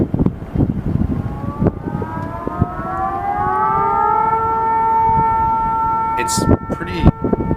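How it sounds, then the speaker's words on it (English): An island-wide alert system siren sounds during a test, a sustained wailing tone similar to a tsunami warning that rises and holds steady. It comes over outdoor background noise, with a brief voice and a few sharp knocks near the end. "what you can hear is a test of the new island alert system"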